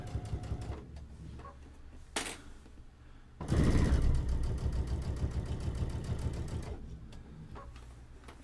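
A sewing machine stitches quilt binding. Quiet ticking and clicking at first, then a steady, louder mechanical whir and hum runs for a few seconds before easing back to softer ticks.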